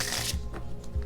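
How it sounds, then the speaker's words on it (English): Tarot cards being shuffled by hand, a close, crisp riffling and flicking of the deck in short bursts lasting about a second. "I keep shuffling"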